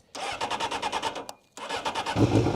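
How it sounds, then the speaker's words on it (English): A carbureted 1993 Honda CBR F2 motorcycle cranks with rapid, rhythmic starter pulses, pauses briefly, then cranks again as the engine catches and begins to rumble, all close and clear. "it's an old carbureted bike, and it starts up every time."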